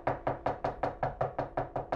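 Ten evenly spaced knocks rap on a door in a steady, quick rhythm, moderately loud and close, with no talking over them.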